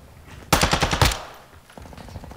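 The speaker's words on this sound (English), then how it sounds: "I hear shooting to our left." Automatic gunfire in Call of Duty DMZ, a loud rapid burst of several shots followed by quieter distant shooting and a short trailing rattle.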